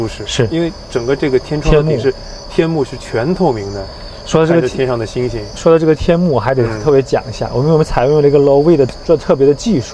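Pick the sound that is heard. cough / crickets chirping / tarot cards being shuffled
crickets chirping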